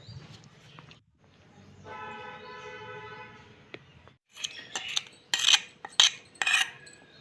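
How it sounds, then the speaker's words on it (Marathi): A kitchen mixer grinder whirs with a steady motor hum for a couple of seconds while blending yogurt chutney, then stops. Sharp clatters and clinks of utensils follow. "ते मिक्सरला फिरून घ्यायचं आणि जास्त घट्ट दिसत असेल तर थोडंसं पाणी टाकून ते पातळसं चटणी करून घ्यायचं"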